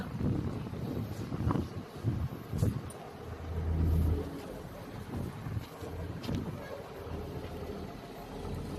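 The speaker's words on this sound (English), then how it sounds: "You can listen. The engine is very strong." An Isuzu engine drives construction machinery fitted with a friction kit pump, a low rumbling drone heard up close outdoors under gusty wind noise, with some louder surges partway through.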